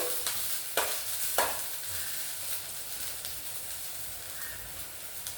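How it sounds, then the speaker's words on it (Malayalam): Coconut oil heats in a pan with a steady, close sizzling hiss, broken by a couple of sharp scraping stirs near the start; no voices. "പാത്രം വെച്ചു വെളിച്ചെണ്ണ ഒഴിച്ചു"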